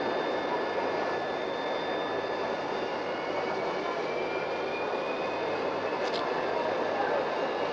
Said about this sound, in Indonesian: Pesawat udara KLM dengan nomor penerbangan KL837 dari Amsterdam, Frankfurt, Karachi, Bangkok dan Singapura telah mendarat